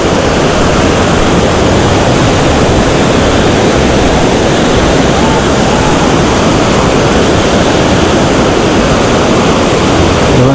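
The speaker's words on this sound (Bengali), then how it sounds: "এবং জলের স্রোত কতখানি।" A river rushes past a zip-line river crossing near Manali, a dense, steady roar of turbulent water filling the scene at close range, loud and continuous with no voices over it.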